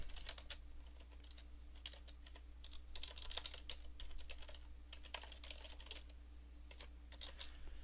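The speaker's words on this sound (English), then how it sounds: "You're going to just type in video link and type it out." Keys tap steadily on a computer keyboard while someone types out a plain text email, with soft, irregular clicks coming in quick bursts over a quiet room hum.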